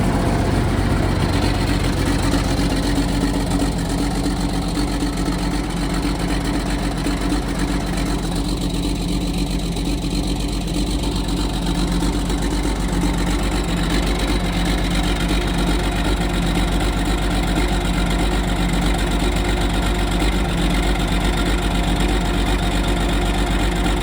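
A Case 4890 tractor engine idles steadily after a cold start on a cold day, a continuous low mechanical rumble that stays loud and close throughout with no talking.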